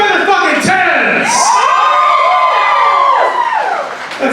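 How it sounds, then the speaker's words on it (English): Audience at a poetry slam in Dayton, Ohio, cheering loudly with whoops and high shouts that rise and fall over a continuous crowd roar, close and intense throughout. "Keep the applause going"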